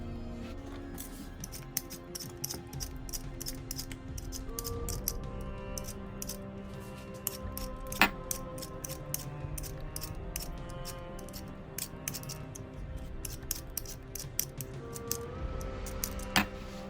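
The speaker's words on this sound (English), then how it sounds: "we'll grab a peeler and peel these" Potatoes are peeled with a hand vegetable peeler, making quick, rhythmic scraping strokes that repeat steadily for the whole stretch, close up and fairly quiet, with no talk.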